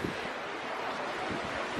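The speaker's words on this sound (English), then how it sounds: "listening to the peaceful waves, it's just so soothing and so calming" Ocean waves wash ashore at Grand Turk beach, a steady broadband surf hiss with soft wind noise, continuous and moderately loud with no talk.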